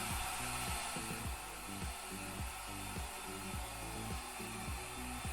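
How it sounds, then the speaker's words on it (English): GoGo Mini hair dryer blowing on short hair while it is styled with a round brush, a loud, steady airy whoosh with a low hum, overlaid by soft rhythmic brushing strokes. "when you want maximum lift, you have to make sure with the round brush that you pull forward when you go to blow dry"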